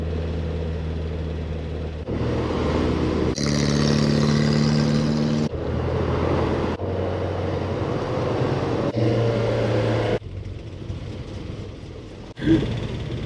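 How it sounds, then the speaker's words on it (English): Classic Ford cars cruise in convoy through London, heard from inside as a steady low engine rumble and road noise that changes character several times, with a brief bump near the end. "So cool driving in convoy with some other classic Fords."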